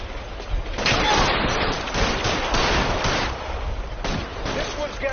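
Dense bursts of gunfire crackle in the video game L.A. Noire, rapid overlapping shots forming a sustained loud fusillade with brief lulls between volleys.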